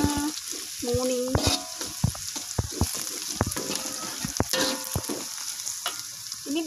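A garlic and spice paste sizzles and fries in a pan, with the steady hiss broken by sharp scraping clicks as it is stirred. A voice speaks briefly in the background.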